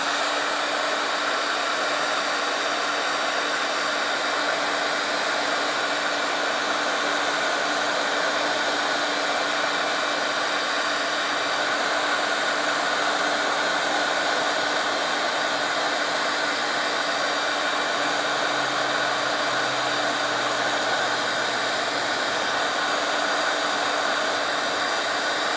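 A hair dryer blows steadily on a wet watercolor painting, a continuous whooshing motor drone at constant loudness with a faint tonal hum, running alone for the whole stretch.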